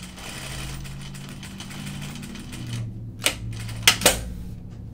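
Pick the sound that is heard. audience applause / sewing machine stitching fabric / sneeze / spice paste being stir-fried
sewing machine stitching fabric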